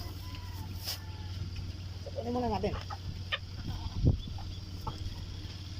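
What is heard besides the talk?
chickens clucking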